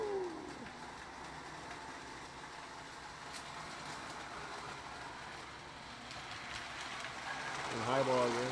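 A Lionel O gauge model train runs on a reconditioned 5x8 double reverse layout with a faint, steady rolling rumble that swells slightly near the end, under low background noise.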